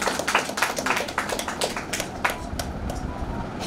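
An audience at a sales event claps in a burst of scattered, overlapping hand claps that carries on steadily throughout.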